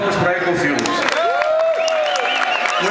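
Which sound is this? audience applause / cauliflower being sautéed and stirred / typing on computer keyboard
audience applause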